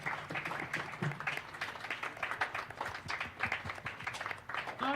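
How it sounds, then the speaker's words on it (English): A band-concert audience applauds after a symphonic band and wind ensemble performance, with scattered, uneven claps that rise and fall in a moderate room, and a few voices faintly underneath. "Let's go ahead and give them a round of applause"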